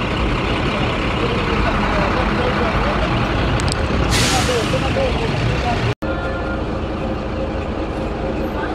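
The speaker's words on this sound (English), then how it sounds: "I'm using this bus behind me to go to Mombasa" A large intercity bus bound for Mombasa idles nearby with a loud, steady engine rumble throughout, a sharp hiss of air release partway through and a brief cut near the end, while a person talks over it.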